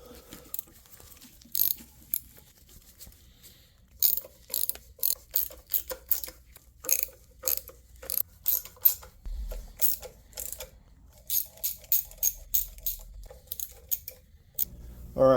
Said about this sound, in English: Start snugging these up, just starting in the middle and zigzagging out.